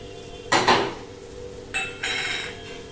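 A spoon stirs spices into a potato and spinach curry in a pan, making two short bursts of metal scraping and clinking against the pan with quiet pauses between them.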